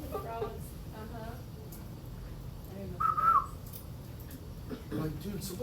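A single coqui frog on a Caribbean beach gives one short, whistle-like chirp at moderate distance, surrounded by faint ambient noise and quiet background talk.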